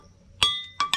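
Sardine tin can struck to make music, three bright metallic clinks with ringing overtones, one single strike followed by a quick pair.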